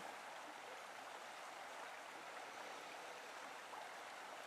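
Rushing stream water, a steady even wash of noise with no voices, heard from a short distance.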